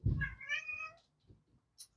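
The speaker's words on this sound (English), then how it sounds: "Let me just let whatever cat this is in." A domestic cat meows once to be let in, a clear close drawn-out meow followed by a few faint soft thumps in a quiet room.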